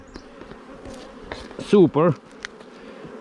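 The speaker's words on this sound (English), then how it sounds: "Just want to get rid of the bees." Honey bees buzz around brood frames during a hive inspection, the hum steady and low with two louder close passes near the middle, and a voice speaks a single brief word.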